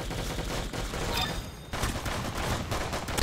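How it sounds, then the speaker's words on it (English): A paintball gun fires in Roblox, giving a dense, continuous spray of rapid shots with a short gap in the middle before the burst resumes, and no voices. "Oh yes, I got the paintball gun."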